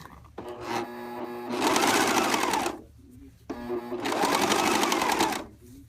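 Serger overlock machine sewing a blind hem on knit fabric, whirring loudly up close in two sustained runs of about two seconds each, each preceded by a slower start, with a short quiet gap between them.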